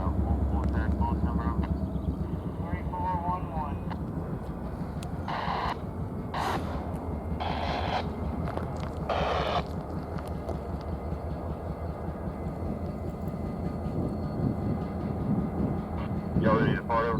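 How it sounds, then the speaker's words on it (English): A work train rumbles and groans steadily at a distance in a rail yard during a switching move, with intermittent squeals and clanks over a constant low roar; faint voices appear here and there. "A work train was pulling forward for a switching maneuver in the yard"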